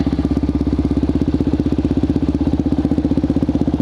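A Suzuki DRZ400SM supermoto engine idles close by with a fast, even, thumping single-cylinder pulse, loud and steady with no other sounds.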